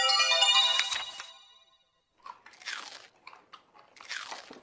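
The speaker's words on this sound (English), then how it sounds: "Santa is eating the cookies." Crunchy bites and chewing of cookies follow a bright ringing chime, with several separate close crunches in an uneven rhythm after a short pause.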